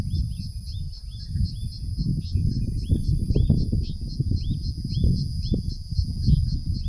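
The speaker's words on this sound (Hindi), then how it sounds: "दूर दूर तक पक्षियों का कलरव आप सुन रहे होंगे।" Birds chirp in quiet mountain surroundings near the Dunagiri shrine in Uttarakhand. Repeated short calls sound at a distance over a steady bed of low wind rumble.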